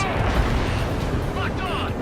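Missiles launch from a fighter jet in Ace Combat 7, a dense roaring whoosh over steady engine noise, with radio chatter running underneath.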